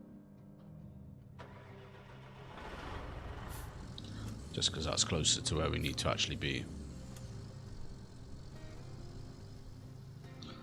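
A truck engine in the video game Roadcraft starts and idles, with a revving burst in the middle before settling to a steady mid-range hum, heard beneath continuous talk.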